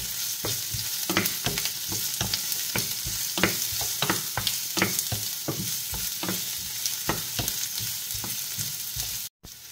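Garlic frying in a pan over caramelized onions, ahead of chicken for Filipino pineapple chicken, with a steady close sizzle and repeated sharp scrapes of stirring throughout and no talk.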